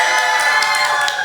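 A cheering crowd sound effect, a steady wash of bright, roaring cheers and claps holding at a loud, even level for a short burst with no voices standing out.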